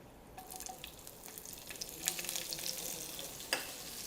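Beans, carrot and beetroot sautéing with cashews and raisins in a hot pan for a no-onion, no-garlic biryani, a soft steady sizzle with a few faint clinks, close and quiet.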